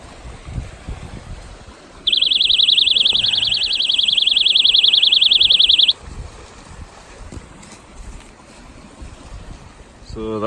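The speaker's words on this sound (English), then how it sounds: "So this is my flood alarm." A loud, steady electronic flood alarm tone, triggered by water filling a channel at a winter camp, sounds for about four seconds against a quiet outdoor background, then cuts off abruptly.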